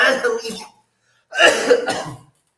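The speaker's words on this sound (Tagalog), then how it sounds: "pasensya na po kayo, inuubo tayo" Two short bursts of coughing, close and fairly loud, separated by a brief silence.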